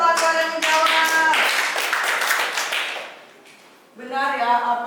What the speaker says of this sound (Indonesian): Tepuk tangan dulu untuk kawan-kawan yang menjawab